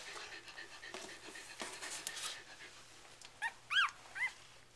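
A sleepy puppy in a litter lets out a few soft, high whimpers near the end, faint and close, after quiet panting and rustling.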